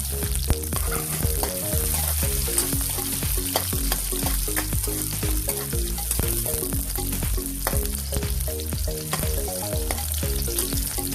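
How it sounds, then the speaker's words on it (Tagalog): Ginger, garlic and onion sizzle loudly in hot oil in a pan, a steady close frying hiss with scattered stirring clicks throughout, no voices. "Unahin muna natin ihulog ang luya, bawang, at ang ating sibuyas."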